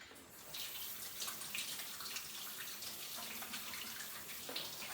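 A kitchen tap runs steadily, splashing over sponges being washed in the sink: a continuous, close hiss of flowing water with no talk.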